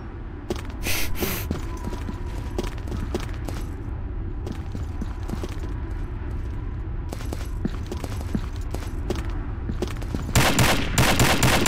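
Gunfire in a shooter video game: sustained rapid bursts of automatic fire crackling steadily for several seconds, with louder volleys near the start and end.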